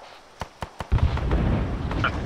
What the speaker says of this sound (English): Mortar fire. Mortar close